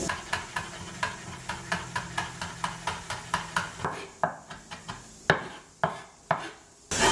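A knife chops green chillies into small rounds on a board, a steady run of sharp evenly spaced taps that loosens into slower, scattered strikes toward the end, close and clear with no voices.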